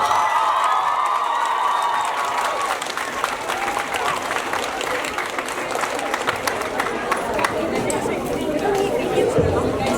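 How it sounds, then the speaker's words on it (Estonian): Large school audience applauding at a student awards show, dense sustained clapping with cheers and chatter filling the whole stretch, steady and loud throughout. "tehke kõikidele palun üks suur aplaus"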